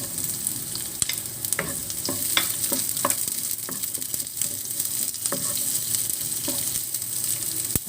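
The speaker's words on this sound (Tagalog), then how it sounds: "magigisa tayo ng bawang. Ayan, lagay na natin yung sibuyas" Garlic and onion sauté in a pan for shrimp sinigang, giving a steady bright sizzle with scattered scraping stirs and light clinks of a spoon.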